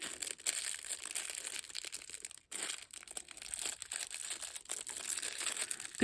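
Plastic bags that hold journal-making supplies crinkle and crunch at close range, a quiet, continuous rustle lasting several seconds with no talking.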